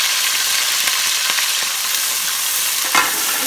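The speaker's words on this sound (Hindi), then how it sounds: "इसको हम फ्राई करेंगे, ज़्यादा" Chopped onion frying in oil for a mixed vegetable dish gives a dense, continuous close sizzle, broken by a few soft stirring knocks and one slightly louder scrape near the end. No one speaks.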